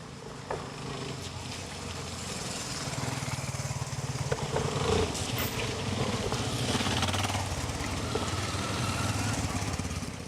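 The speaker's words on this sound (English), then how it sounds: "I'm actually using this oldish Yamaha XT350." An older Yamaha XT350 dirt bike ridden off-road in the countryside, its single-cylinder engine droning steadily with a rough, buzzing tone that swells slightly as it rides on, fairly close and continuous.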